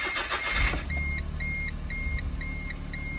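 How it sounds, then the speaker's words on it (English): A 2008 Smart Fortwo with a faulty secondary air pump (code P0410) starts with a brief crank, then settles into a low idle while a warning chime beeps in an even repeating rhythm. "we're gonna start up the car"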